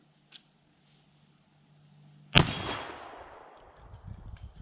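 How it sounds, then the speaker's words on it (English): A percussion revolver fires a single 220-grain bullet at a steel target. The shot is one sharp, loud crack that rings out and fades, and a softer clatter follows. "gonna shoot a steel target with the 220 grain just to see"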